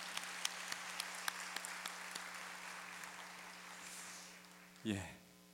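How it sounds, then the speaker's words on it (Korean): A church congregation gives applause at a Sunday worship service, a fairly soft, even clapping spread across the room that swells slightly before ending, with a brief louder sound at the close. "큰 격려의 박수를 보내주시면 좋겠습니다"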